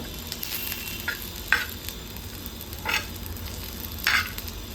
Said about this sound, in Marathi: आता मी थोडंसं जिरं घालते याच्यामध्ये अर्धा चमचा आणि थोडंसं जिरं पण भाजून घेते हलकस